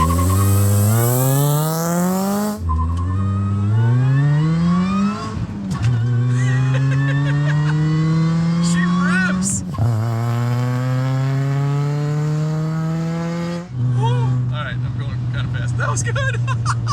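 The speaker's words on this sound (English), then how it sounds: "you just gotta hear the idle now that this thing is running good" A boosted four-cylinder Saturn engine with big cams runs close by, climbing through several loud revs that rise in pitch and then drop back to a rumbling, lumpy idle.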